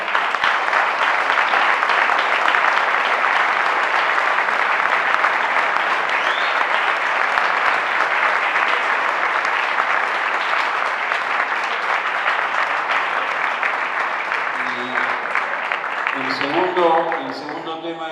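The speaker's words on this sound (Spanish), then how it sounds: "propongo un aplauso por tu generosidad" Sustained audience applause at a lecture in San Rafael, Mendoza, loud dense clapping that continues steadily for a long stretch before thinning slightly at the end.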